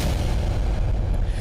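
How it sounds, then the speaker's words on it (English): A deep explosion sound effect plays as a sustained low rumbling boom, loud and dense throughout, with no voices over it. "I'm gonna send you this explosion"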